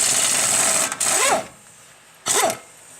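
A wrench breaks free the nuts on a rear strut, a 21mm on one side with an adjustable holding the nut, making two short bursts of harsh ratcheting and grinding close by, separated by a quiet gap.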